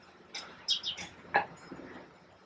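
Several short chirps from a male house sparrow, spaced irregularly over a couple of seconds against a quiet background, with one call slightly louder and rising.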